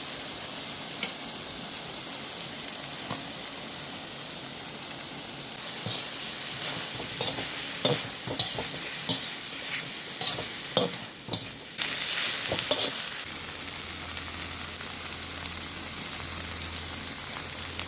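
Bamboo shoots sizzle and crackle in a hot pan while a utensil scrapes and stirs them now and then, the frying hiss steady throughout.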